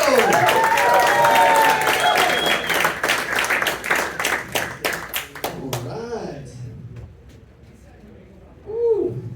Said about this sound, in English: Please give a nice round of applause for Mike Spadaroto.